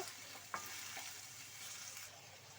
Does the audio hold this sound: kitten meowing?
no